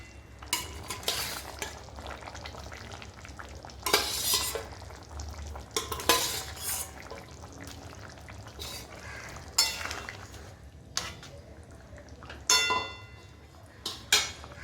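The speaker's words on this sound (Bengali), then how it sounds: "এখন আমরা ওর ভিতরে ভেজে রাখা মাছগুলোকে মিশিয়ে দেব" Fried fish stirred into a pot of boiling water while making a potato and fish curry: scraping spoon-against-pot strokes in irregular bursts over a steady bubbling sizzle, close and fairly loud.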